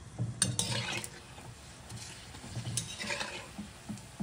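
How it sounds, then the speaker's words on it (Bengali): Chicken cooking in a pan, a soft continuous sizzle with occasional scrapes and stirring clatter of a utensil against the pan, moderately near and fairly quiet. "আর এখানে চিকেন রান্না হচ্ছে।"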